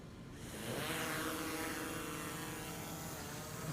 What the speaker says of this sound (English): we're going to take this drone off and start our waypoint mission here